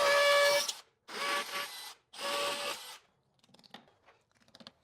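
A drill boring holes into a concrete block wall for anchors, three loud grinding bursts of about a second each with short pauses between, followed by faint scattered scraping and tapping.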